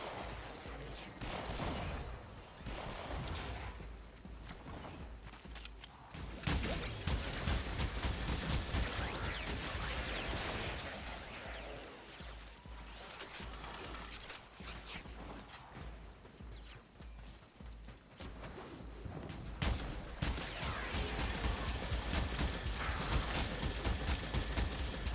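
Rapid gunfire from a sniper shotgun in a video game, bursts of shots and mechanical clatter running throughout at steady loudness, with denser firing toward the end.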